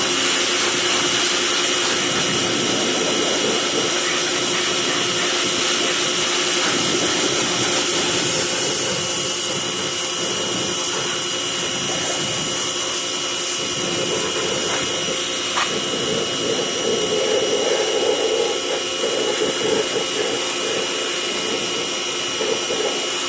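Pressure washer spraying a Bolens antique tractor, a steady loud hissing blast of water with a continuous high whine from the pump, running without pause.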